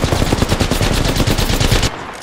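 Automatic weapon fire in the video game Apex Legends: a rapid, loud, evenly spaced burst of about fifteen shots that stops abruptly near the end.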